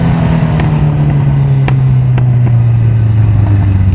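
A Honda 750 Four motorcycle engine hums loud and steady at low pitch, close by, with a few sharp ticks and small rises in revs throughout.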